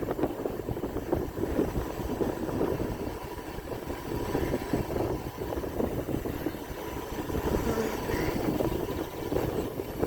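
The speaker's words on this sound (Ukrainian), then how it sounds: "Вам напевно шумить вітер, що капець." Continuous heavy wind buffeting the microphone outdoors by a soybean field, a loud rumbling roar that surges and fades throughout with no clear pauses.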